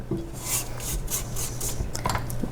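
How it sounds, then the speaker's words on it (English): A spatula scrapes a butter mixture down the side of a mixing bowl in a home kitchen, making repeated close rubbing strokes with no talk. "I'm going to scrape down a little bit of the butter mixture here"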